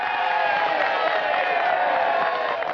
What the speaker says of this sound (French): vous m'applaudissez, vous m'acclamez